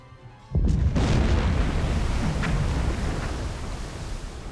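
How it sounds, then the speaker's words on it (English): Two torpedoes strike a freighter in the submarine game Silent Hunter 4, opening with a sudden loud boom that rolls into a long, dense rumbling roar, sustained and heavy. "Two torpedoes. Roughly the same place."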